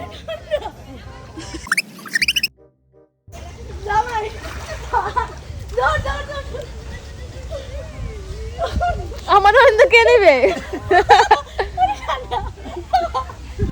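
Sea water splashes and sloshes around bathers at Saint Martin's Island, with rising bursts of splashing, chuckles and laughter mixed with ongoing talk from several people nearby.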